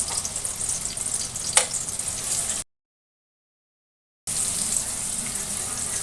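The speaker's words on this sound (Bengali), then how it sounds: "প্রথমে পেঁয়াজ ভেজে দিচ্ছি" Onions frying over high flame in a pan for fried rice give a steady sizzle with a brief sharp clatter, then a full dropout of sound before the hiss resumes.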